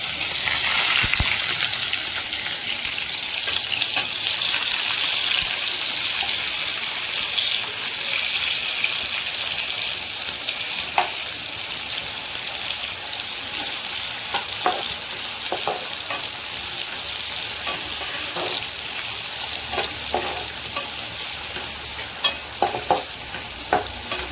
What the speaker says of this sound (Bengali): একটু ভাজা ভাজা হতে থাক।